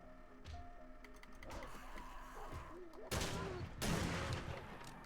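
Shotgun blasts in a video game, two heavy booming shots close together near the end after quieter ambient game sounds and scattered clicks.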